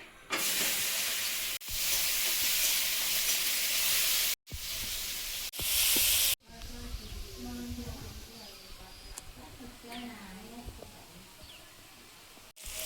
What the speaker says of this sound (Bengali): উচ্ছেটা আগে একটু ভেজে নেব